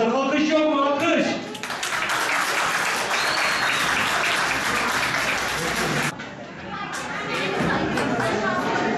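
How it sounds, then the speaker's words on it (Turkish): Audience at a Turkish school report-card event for students with special needs bursts into sustained applause lasting several seconds, with chatter around it and a voice speaking before and after. "alkış yok mu? Alkış."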